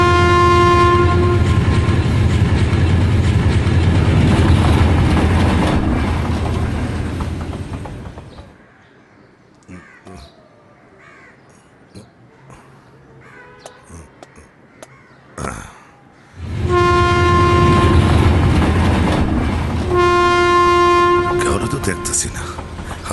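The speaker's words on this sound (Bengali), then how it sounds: "সবুরে মেওয়া ফলে ওই যে ট্রেন এসে পড়ছে।" A train pulls in with a loud, sustained horn blast and a heavy rolling rumble. Both fade to quieter ambience with brief voices, then the horn and rumble return strongly near the end.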